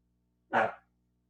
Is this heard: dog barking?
yes